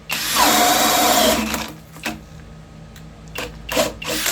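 A Flex 24V cordless drill whirs loudly for a second or so as its bit spins in wood, then stops, followed by a few short bursts and scraping sounds close by.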